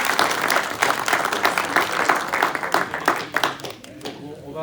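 An audience at a gardening talk applauds, with dense, lively clapping that continues for several seconds and then thins out toward the end, while a voice speaks faintly underneath.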